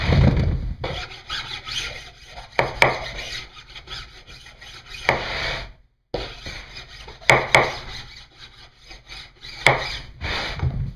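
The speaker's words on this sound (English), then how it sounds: "just lightly file the corners" A hand file rasps along the corners of an exterior post wrap in repeated strokes, a steady scraping rhythm up close with one short pause midway and no talking.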